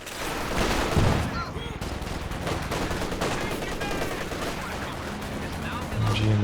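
Machine gun fire in the real-time strategy game Company of Heroes 2, rattling in rapid, dense bursts that run almost continuously and blend with other battlefield gunfire, loud and close.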